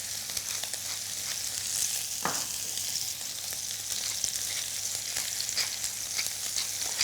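Salted and peppered meat sears in a pan with a little fat, giving a steady, soft crackling sizzle with one brief sharper burst partway through.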